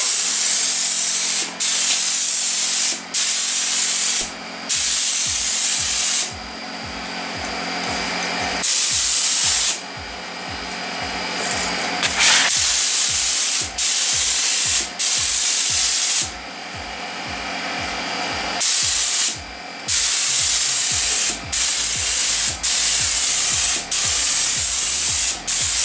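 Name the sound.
spray gun painting metallic coat on car rear quarter panel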